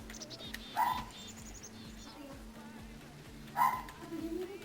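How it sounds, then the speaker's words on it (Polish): A dog in a modded game barks faintly in the background, two short separate barks a few seconds apart, over a steady ticking ambience. "Tam możecie słyszeć w tle psa, który czeka."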